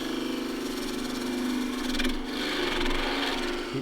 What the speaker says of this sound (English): shear cuts nicely with a skew chisel